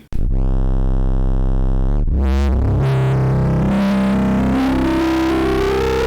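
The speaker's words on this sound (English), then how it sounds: "you really can get all of those crazy acid tones out of this thing" A buzzy Korg MS2000 analog synthesizer drone holds, then squelchy, distorted acid-style tones sweep and rise in pitch, loud and continuous with no voices.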